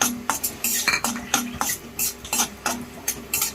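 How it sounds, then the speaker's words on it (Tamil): Semolina with raisins roasts in ghee while a spoon stirs it around the pan, producing rapid rhythmic scraping and clinking strokes over a soft sizzle. "ஒரு 2 டீஸ்பூன் நெய் வந்து ஊற்றிட்டு ரவையை நல்லா வறுத்துக்கலாம்."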